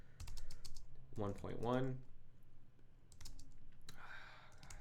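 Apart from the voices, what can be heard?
computer keyboard typing while renaming a folder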